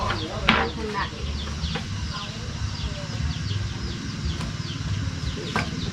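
Chickens cluck and call in a sunny village farmyard in Champasak, Laos, with a sharp nearby squawk early on, then softer clucks over a low steady background hum.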